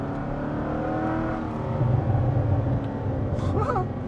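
A C6 Corvette with universal valved mufflers rumbles and revs nearby, its exhaust throbbing in a deep, steady roar with a few sharp pops and crackles near the end.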